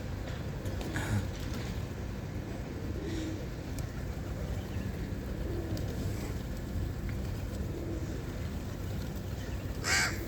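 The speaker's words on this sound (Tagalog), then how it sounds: "Takot lumapit yung uwak eh." A lone crow caws at a distance over steady background hum, with a few louder calls scattered through, no voices present.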